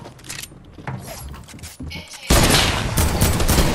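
Rapid bursts of gunfire in a shooter video game, scattered shots early then a loud sustained volley of close firing in the second half.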